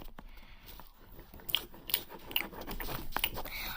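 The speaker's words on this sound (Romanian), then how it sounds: "Termină cu plescăitul." Loud, wet lip-smacking and chewing from a person eating in a classroom, with repeated smacks and bites clustering near and close, over faint background room noise.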